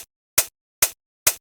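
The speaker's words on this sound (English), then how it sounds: "we've just got some hats that come in. They're just offbeat hats," Three short, crisp offbeat hi-hat hits from a Melbourne bounce dance track land evenly spaced in isolation, bright and sharp, each with a brief decay.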